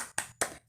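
A primary-school class in Indonesia does a rhythmic spirit clap together: three sharp bursts of many hands clapping, evenly spaced in under a second, close and fairly loud with no talking.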